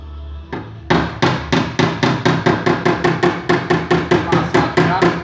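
Rapid, regular metallic impacts from a dent puller hammer away at a car body panel at close range, a steady series of sharp knocks following a brief low hum.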